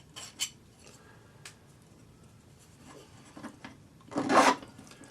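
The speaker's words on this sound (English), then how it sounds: "I just file at a 45-degree angle on the side to get any little burrs off" A hand file rasps at an angle along the edge of forged metal earrings to remove burrs, giving short scattered scraping strokes, quiet at first, then a louder, longer rasp near the end.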